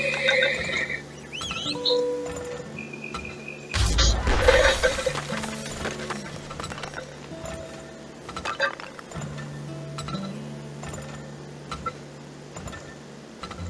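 Horses neighing in the video game Turmoil, a whinny standing out over a steady bed of game tones and clicks, with a brief crash near the middle.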